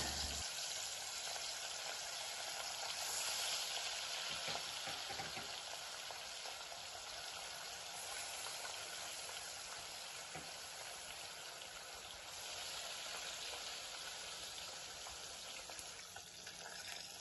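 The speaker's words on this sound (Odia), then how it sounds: "ତେଲ ପୁରା ଗରମ ହୋଇସାରିଲା ପରେ ମାଛ ପକାଇ ଭାଜିବା।" Fish frying in hot oil in a wok for a Odia mustard fish curry, a dense continuous sizzle and crackle that holds steady throughout, close and moderately loud with no talking.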